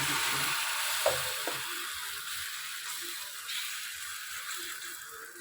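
Patishapta batter sizzles in an oil-brushed nonstick pan, a steady close hiss with a couple of small clicks early on and no talking.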